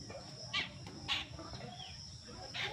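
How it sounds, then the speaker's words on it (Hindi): Birds chirp faintly in a few short, separated bursts against a quiet background. "देखिए चिड़िया बहुत ज़्यादा चहचहा रही है"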